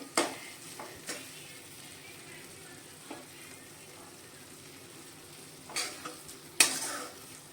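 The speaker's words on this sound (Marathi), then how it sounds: "त्याच्यावरती मी थोडीशी कोथिंबीर घालते मी मिक्स करते" Coriander stirred into dry Maharashtrian matki bhaji in a pan with the gas switched off, giving soft scraping stirs under a faint sizzle, with a few louder clinks of spoon against metal near the end.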